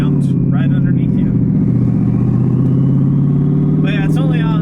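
A twin-turbo Ford Mustang with its downpipes dumped right under the car drones loud and steady from inside the cabin, a deep exhaust hum running under a voice that talks throughout.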